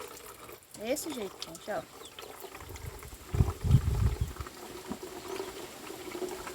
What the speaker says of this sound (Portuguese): Vai demorar a encher essa daqui, gente, porque a água tá fraca